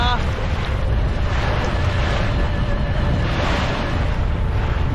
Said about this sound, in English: Got about 12, 13 knots of wind.